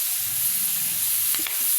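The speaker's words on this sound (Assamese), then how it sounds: "অকণমান শুকান হোৱাকৈ পালেংখিনি ভাজি ল'লোঁ" Chopped spinach frying in a pan, giving a steady close sizzle throughout with a couple of brief scraping stirs near the end.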